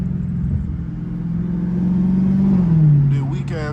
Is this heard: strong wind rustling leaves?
no